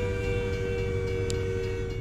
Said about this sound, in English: But of course, we got to wait on a train.